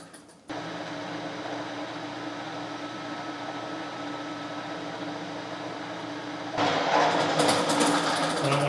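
A steady mechanical whir of a machine running drones throughout, then grows louder and harsher as it begins spot-drilling bolt holes in a metal flange near the end.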